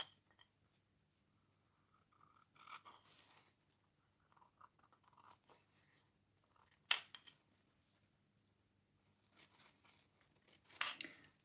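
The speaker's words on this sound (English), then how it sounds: "First I will make a cut here." Scissors snip through a paper napkin in a quiet room, giving two or three faint, isolated cuts spaced several seconds apart with soft rustling between them.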